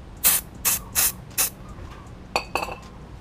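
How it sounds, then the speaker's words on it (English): Short hissing bursts of brake parts cleaner being sprayed during a brake pad replacement on a Proton X70, four quick squirts in a row, then a couple of clinks and another spray, up close. "you can spray the brake parts cleaner on it."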